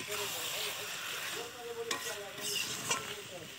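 Chicken curry with potatoes fries in a pot on a home stove while a metal spatula stirs it, giving a steady sizzle with a few sharp scraping clinks, close and fairly quiet.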